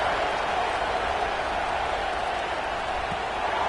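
Stadium crowd in a college football video game roars steadily as the teams line up for the kickoff, a dense, continuous wash of cheering noise at moderate level with no break.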